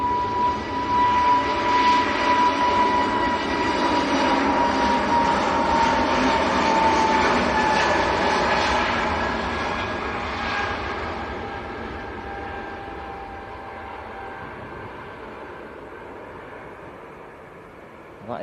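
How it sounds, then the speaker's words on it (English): An EasyJet airliner departs Manchester Airport bound for Rennes, its broad jet roar loud at first and then slowly fading into the distance over about eighteen seconds. "That is EasyJet to Rennes."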